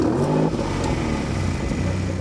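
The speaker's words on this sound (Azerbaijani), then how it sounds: "530 at güclü mühərrik düyməyə toxunduğun anda oyanır" A Maserati Grecale Trofeo SUV with a 530 hp engine revs in one steady, loud, sustained rumble that swells briefly at the start and then holds near and constant with no talk.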